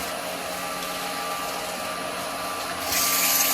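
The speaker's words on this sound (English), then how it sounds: "I can do a little bit more sanding on this. Turn that speed down a bit." A steady whirring hum of a spinning wood lathe with a sanding hiss on a turned wooden cowboy hat, rising to a brighter, harsher rasp near the end.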